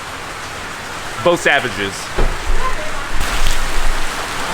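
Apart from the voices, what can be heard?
pouring monsoon rain in the streets of Yangon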